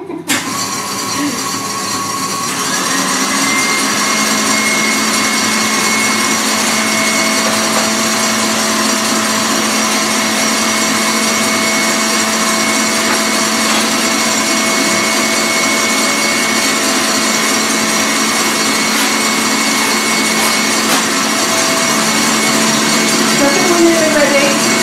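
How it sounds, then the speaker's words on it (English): An electric mixer whisks meringue in a home kitchen, switching on after a short pause and then holding a loud, steady whirring drone with a constant tonal hum for the rest of the span. "So I'm going to have to turn my mixer on again."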